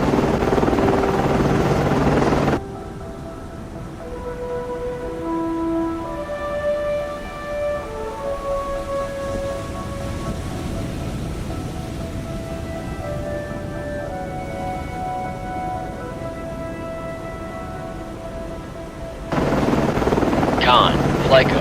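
In the submarine game Cold Waters, a naval helicopter drones steadily at middle distance as a constant rotor hum with layered engine tones, framed by louder bursts of noise at the start and end.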